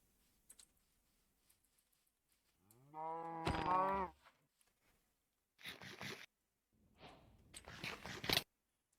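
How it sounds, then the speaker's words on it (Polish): A Minecraft cow lets out a single loud moo. Quieter clicks and short rustling bursts from gameplay follow it. "Krowa, szybko."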